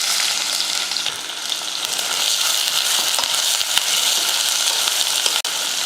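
Sliced onion sautés with whole spices in a pan for a one-pot dish, giving a steady loud sizzle and crackle throughout with a few stirring knocks, and no talking.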